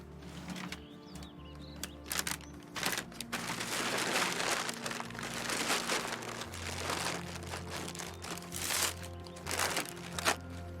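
Sheets of paper crumpled and crinkled by hand while wrapping a tropical-style table flower arrangement, a close, continuous rustling with sharper crackles and brief pauses over a low steady hum.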